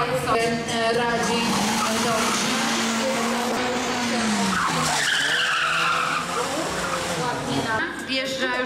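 A Citroen C2 rally car swings tightly through a turn on a tarmac parking section at a rally criterium, with loud tyre squeal and skidding over a rising and falling engine note, close and continuous.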